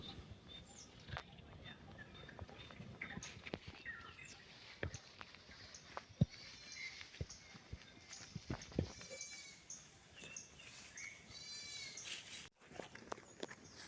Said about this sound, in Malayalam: ഏകദേശം എണ്ണൂറ് ആടുകളുണ്ട് ഇതിനകത്ത്